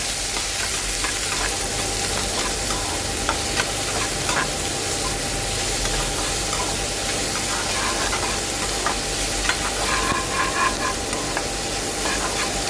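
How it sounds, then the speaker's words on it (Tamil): Onions sizzle and crackle steadily in a hot pan, with occasional scraping from stirring; no voices. "நல்லா வதக்கி விடுங்க ஆனியன் நல்லா வதங்கட்டும்"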